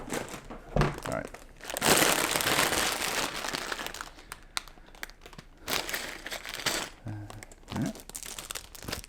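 A plastic bag holding LEGO instructions for Kylo Ren's Shuttle set 75256 crinkles and rustles in bursts across the clip, loud and close, with some quiet talk in between.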